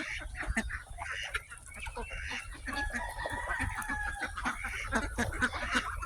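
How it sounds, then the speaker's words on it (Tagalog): Backyard chickens cluck and a rooster crows in bursts, fairly faint, with scattered clucks and a drawn-out crow in the middle over quiet outdoor background. "Yan ang manok ko niyan."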